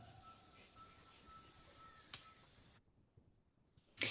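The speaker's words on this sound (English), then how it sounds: "So this is the sound of a bird, specific in the Amazon, that only sings during the day." A recorded Amazon bird that sings only by day gives a steady, high, shrill trilling that cuts off abruptly, followed by a short, bright call near the end.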